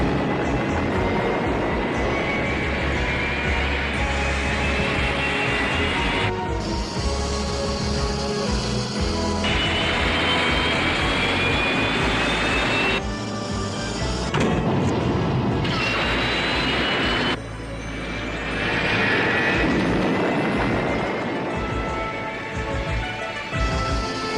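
A cartoon spacecraft lifts off with a loud, continuous rumbling roar and rising whine, broken by abrupt cuts and surges like edited blast-off effects.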